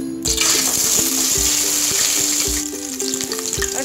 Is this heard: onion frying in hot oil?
yes